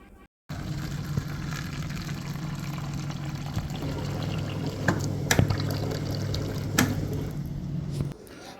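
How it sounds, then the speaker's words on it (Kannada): Hot water pours steadily for several seconds in an office pantry, a continuous close liquid rush with a couple of faint clinks near the end. "ಇವಾಗ ಜಸ್ಟ್ ಬಿಸಿನೀರು ತೊಗೊಳ್ತಾ ಇದ್ದೀನಿ"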